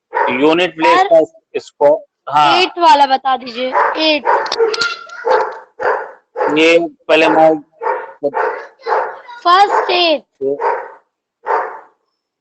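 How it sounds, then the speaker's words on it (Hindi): A dog barks in the background of an online math class, with short yips scattered beneath a woman's near, continuous teaching voice that dominates throughout. "कुत्ता भौंक रहा है"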